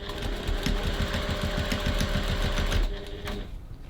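Sewing machine stitching a pocket onto a crossbody bag at a 2.4 stitch length, a steady rapid mechanical chatter running close and loud for most of the stretch before stopping, with no talk.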